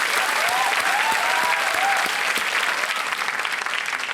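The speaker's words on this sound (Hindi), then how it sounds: "तालियों के साथ हम आपका स्वागत करते हैं।" Studio audience applauding a contestant, retired after 38 years of service, on the KBC game show set; steady, dense clapping fills the whole stretch at full strength, with a few faint voices mixed in.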